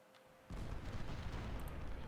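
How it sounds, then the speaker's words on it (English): Artillery fire from a cannon battery at Gettysburg in the strategy game Ultimate General Civil War, heard as a heavy rumbling roar that bursts in suddenly after a quiet moment and stays loud and dense until the end. "That artillery is just going to mess us up real good."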